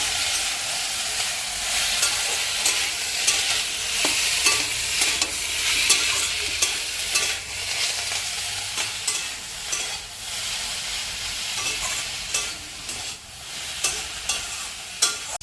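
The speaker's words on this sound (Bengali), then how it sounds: "আলুর সাথে আমি এক থেকে দু মিনিট একটু নাড়া দিয়ে নেব দিয়ে কষিয়ে নেব" Potatoes and ivy gourd shoots are sautéed in hot oil, giving a steady sizzle. A spatula scrapes the pan repeatedly, its strokes irregular and close, with no talking.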